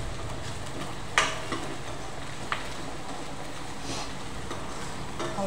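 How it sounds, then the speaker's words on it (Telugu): Onions fry in a pan for curry with a constant close sizzle, broken by a few sharp clicks and scrapes from stirring. "ఆల్మోస్ట్ ఫ్రై అయిపోయినాయండి"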